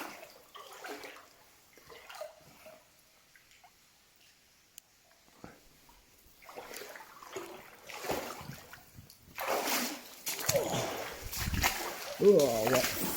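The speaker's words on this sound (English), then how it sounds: "I splashed myself." Water splashes and trickles inside a flooded slate mine, starting as scattered faint drips and sloshes and growing into louder splashing footsteps toward the end, with people talking throughout.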